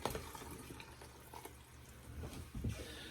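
Water poured into a soup pot for bacon cheeseburger soup with potatoes, a continuous splashing, trickling pour with uneven surges, fairly close and without talk.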